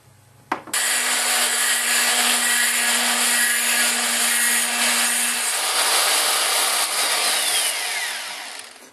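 Metabo die grinder fitted with a matchstick stone shaping bedding compound in a rifle stock, spinning up sharply to a loud, steady high whine held for about eight seconds before winding down.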